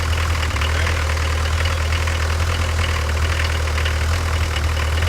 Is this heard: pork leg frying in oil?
no